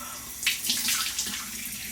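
Hot water runs steadily from a bathroom tap into a sink, a continuous hissing splash with brief louder gushes, close and fairly loud with no talking.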